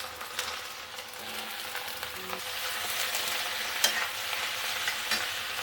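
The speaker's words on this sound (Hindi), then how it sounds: "अब हम इसमें शिमला मिर्च डाल देंगे।" Chopped capsicum stir-fried in a pan, with a soft steady sizzle and a few light clicks and scrapes of stirring, close and moderately quiet, with no talking.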